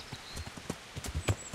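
Horse hooves clip-clopping at a steady walking rhythm while riding along a path in Kingdom Come: Deliverance, close and moderately soft, with no talk over them.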